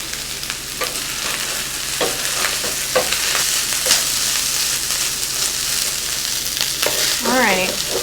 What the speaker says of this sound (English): You're frying it with the oil.